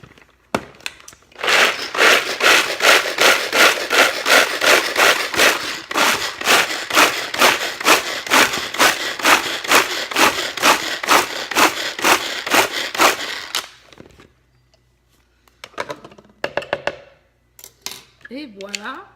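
A knife chops dried raisins on a board for a broccoli and bacon salad, a long run of fast, even, crisp chops up close, followed by a pause and a few faint kitchen sounds.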